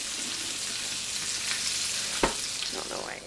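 Breaded steak fingers and mushrooms frying in hot oil in a pan, a steady close sizzle and crackle throughout with a sharp tap or stir partway through, no talking.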